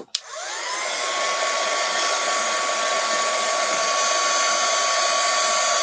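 A hair dryer used to dry stamped craft work starts with a click and spins up to a steady, loud, close whirring roar that holds without a break.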